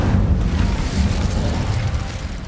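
A fire spell is cast in the video game Hogwarts Legacy with a loud, dense, rumbling whoosh that holds steady, heavy in the low end, for a couple of seconds.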